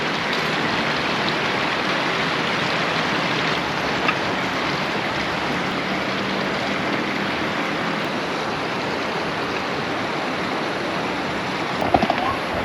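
River water flows at a secluded riverside campsite, a continuous close hiss and rush at even loudness, with a brief knock near the end.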